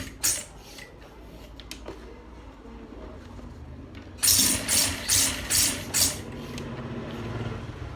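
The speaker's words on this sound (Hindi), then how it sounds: "तो यहाँ से हम सिलाई करेंगे।" A sewing machine stitches fabric nearby, breaking out in a short burst of rapid, rhythmic mechanical chugging midway, with quieter clicks and handling noises before and after.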